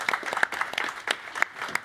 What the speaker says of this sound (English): let's give Bjerke and Elitza a huge round of applause.